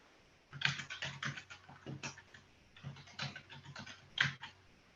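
Rapid typing on a computer keyboard, close and alone: two dense bursts of clacking keystrokes separated by a brief pause, with one sharper key strike near the end.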